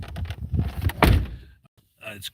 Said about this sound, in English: I opened the door to get the wind blow through.